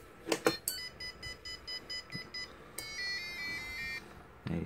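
An escape-room button timer game beeps through its countdown, a run of short, evenly spaced electronic tones that ends in a longer closing signal once time runs out.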